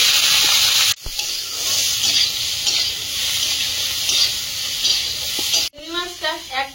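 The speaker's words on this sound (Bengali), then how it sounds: "চিংড়িটা ভেজে নেব।" Shrimp coated with salt and turmeric fry in hot oil in a kadai, a loud steady sizzle and hiss that drops out briefly, then returns before a short burst of voice near the end.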